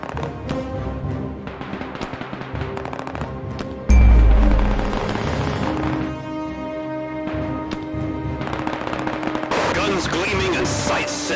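Gunfire in the WWII real-time strategy game Men of War II during an Allied convoy escort mission: steady bursts of shots and battle noise, with a heavy, loud blast near the midpoint followed by continuous rattling fire.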